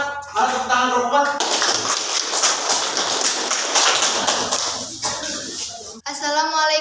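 Applause from a classroom audience for a student group fills the middle, a dense burst of many hands clapping for about four seconds, framed by someone speaking before it and a voice starting again after.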